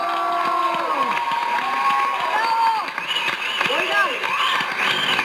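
A studio audience on a Mexican talk show cheers and applauds Yolanda Andrade, with a lively mix of shouts, whoops and clapping that carries on continuously, with voices rising above the crowd.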